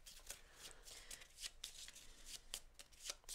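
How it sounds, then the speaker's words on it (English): A deck of cards shuffled by hand at a tabletop game, a steady run of crisp riffling flutters and soft slaps, close and fairly quiet, with no talking. "So yeah, grab them, shuffle."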